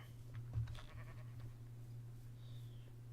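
A sheep bleats in a Minecraft GT New Horizons modpack game, one short bleat heard faintly over a steady low game hum.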